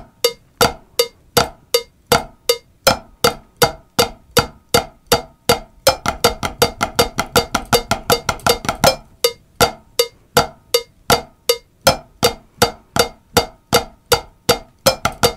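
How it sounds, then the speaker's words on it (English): Drum alternating flams move from quarters to eighths to sixteenths against a click, with crisp, evenly spaced hits that grow denser in the middle and then thin out again, played alone. "and sixteenths for one measure. All alternating Flams sounds like this."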